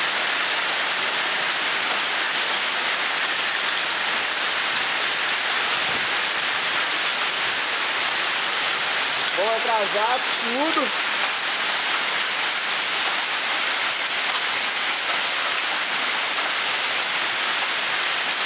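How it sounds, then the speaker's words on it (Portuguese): Hail pours steadily onto surfaces outdoors in Japan, a dense, even hiss and patter with no letup, and a brief voice speaks partway through. "Chove pedra de gelo no Japão."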